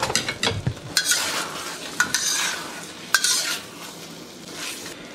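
Chicken chow mein with vegetables being stir-fried in one pot, with a utensil scraping and clinking against the pot several times over a steady sizzle, close and loud, with no talking.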